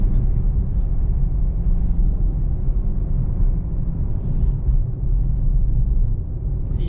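Mercedes-AMG GT 63 S 4-door engine accelerating, a loud, steady low rumble that holds for several seconds with no speech over it.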